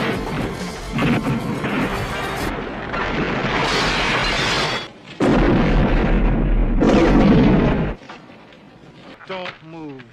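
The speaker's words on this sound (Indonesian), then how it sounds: "nyungsep lalu meledak." Car crashing and exploding in a film: loud crunching smashes and a heavy blast with debris, mixed with dramatic sound effects before things quiet down.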